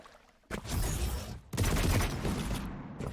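Rocket launcher blasts and a railgun shot in a Quake Pro League match, two loud bursts about a second apart, each with a sharp onset and a dense, roaring decay.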